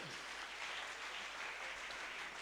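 Applause from a church congregation, steady and dense with many hands clapping at once, heard at a distance and fairly quiet, sustained without breaks throughout.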